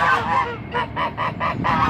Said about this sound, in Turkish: Bak şu baştaki orijinal yerli çorum kazı.